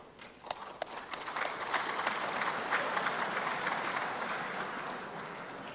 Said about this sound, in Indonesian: Tepuk tangan meneh